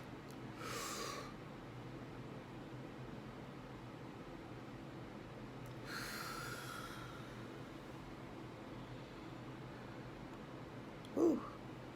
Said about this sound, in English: It's time for us to breathe in and breathe out to get our day started.